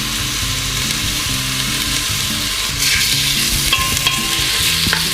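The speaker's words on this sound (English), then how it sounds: "we will be putting the beef first in there to sizzle. You can hear the sizzling" Beef sizzles in olive oil in a pan, a continuous close crackling hiss with occasional stirring clatter on top, steady and moderately loud.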